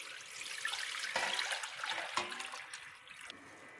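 Water pours steadily into a cooking pot on the stove, about 1.5 liters, a soft hissing splash that shifts in tone as it fills, fairly quiet and with no voices.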